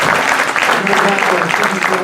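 A business meeting audience claps together in a sustained round of applause, dense and steady at close range, with no pause for the full stretch.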